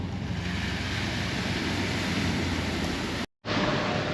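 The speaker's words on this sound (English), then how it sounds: "the ferry just came through, so the waves are a little bit bigger" Larger sea waves stirred up by a passing ferry off Sifnos wash in as a steady broadband rush with wind noise, briefly cut off near the end before resuming.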